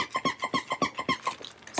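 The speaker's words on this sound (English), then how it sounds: "Lots of crinkle in this one, but there's still a squeaker too." The squeaker inside a crinkly plush dog toy squeaks about nine times in a quick, even rhythm, close and clear, followed by a softer crinkle and one last squeak.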